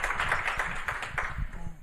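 Scattered clapping from a small audience at a festival talk with an actress, fairly faint and uneven, with individual claps audible over a low murmur of voices.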